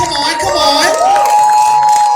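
A premiere audience for the film North of the 10 cheers and shouts in a short, loud burst of crowd noise, with voices mixed into the excitement.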